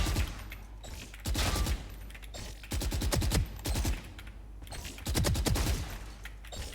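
Bursts of gunfire from Valorant aim training against bots come in three clusters of rapid, punchy shots with short pauses between them, loud and up close.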